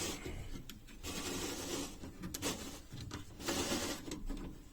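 Squeaky, scraping rubbing of a Renault Super 5 car window sliding against dirty rubber seals, with uneven bursts of friction noise over a few seconds.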